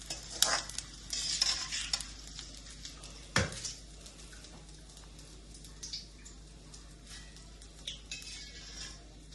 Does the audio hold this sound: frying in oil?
yes